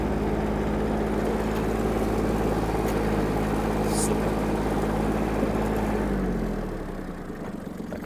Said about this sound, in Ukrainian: Плавно опускаємо щеплення, гляньте, як трактор рушає